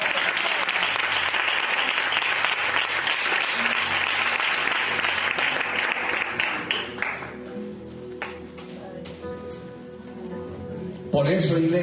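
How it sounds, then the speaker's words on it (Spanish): A church congregation claps loudly and steadily, then the applause thins out and fades after about seven seconds, leaving scattered claps and quieter room sound with a brief louder burst at the end. "Dale un aplauso al Señor."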